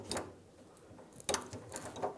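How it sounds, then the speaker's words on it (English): 18mm gear wrench ratcheting a sway bar link nut on a 2011-2018 Ram 1500, giving a few quiet, close metallic ratchet clicks in short irregular bursts. "Put the bottom nut on. Using a 18mm gear wrench and the 8mm socket."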